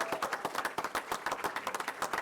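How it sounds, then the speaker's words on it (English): A city council meeting audience applauds, a modest group whose individual claps come through in an uneven, rapid patter, moderately loud and continuous for a couple of seconds. "Can we give her a big round of applause?"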